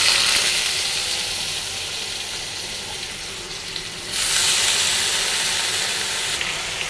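Chopped potatoes sizzling in a kadai, a continuous bright hiss of frying that swells sharply partway through, heard alone without talk.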